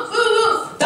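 A voice imitates a dog barking at a children's folk music concert, with one drawn-out yelp followed by a short second burst, close and loud.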